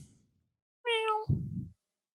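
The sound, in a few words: cat meowing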